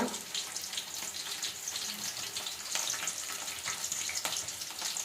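Onions and mustard seeds sizzle in hot oil with whole spices such as cumin and cinnamon for a vegetable pulao, a steady close crackle with occasional stirring scrapes and no talk.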